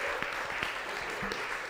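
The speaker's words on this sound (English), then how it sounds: "Yeah, give them a round of applause." A theatre audience applauds as a stage crew is welcomed, a soft, continuous patter of clapping with a few sharper claps standing out, heard from a moderate distance.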